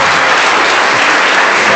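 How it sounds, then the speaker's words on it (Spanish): A church audience applauding a guest being welcomed on stage, dense steady clapping filling the room at full volume throughout. "Un aplauso para Miguelito"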